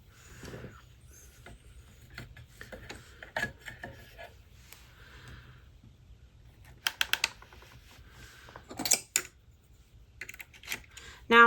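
A circular sock knitting machine works through a row of yarn, making close, irregular mechanical clicks and short rattling bursts. The clicks grow louder toward the end, and a person talks quietly between them.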